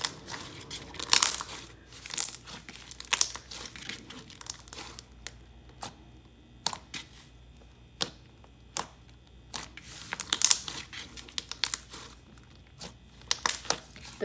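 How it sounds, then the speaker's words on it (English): Thick, bubbly, stretchy slime is squished and pulled close up, giving irregular crackling pops and squelchy crinkles in bursts separated by brief quiet gaps. "It's also stretchy for how thick it is, and has really nice bubble pops."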